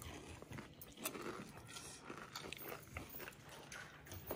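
Repeated crisp crunching bites into a fried crab rangoon, close and fairly loud, with scraping chewing noises in an irregular rhythm and no talking.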